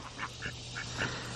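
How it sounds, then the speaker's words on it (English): Ducks on a farm quacking in a few short, soft calls spaced over a low steady background hum, fairly faint and unaccompanied by speech. "come over here and check on our ducks"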